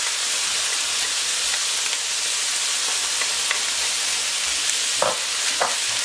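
Zucchini and minced meat fry in a pan, a steady close sizzle with a few brief stirring scrapes near the end; no talking.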